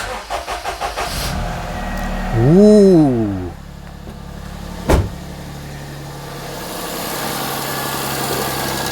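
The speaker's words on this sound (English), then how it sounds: "I always let the fuel pump run before I start the engine" A car engine cranks in several quick pulses, then catches and revs up with a rising and falling whine, then settles into a steady idle. A short exclamation is heard, plus a single sharp knock midway.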